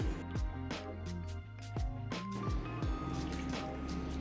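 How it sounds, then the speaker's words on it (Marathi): Water is poured from a cup onto washed broken basmati rice and dal in a pot, giving a close, gurgling splash with several short pours and bright drips, then a steadier trickle. "त्यासाठी मी 3 वाट्या पाणी घालणार आहे"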